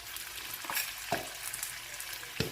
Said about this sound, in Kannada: ಒಂಜಿ ನೀರುಳ್ಳಿನ ಕಟ್ ಮಲ್ತದು ಪಾಡೋಣ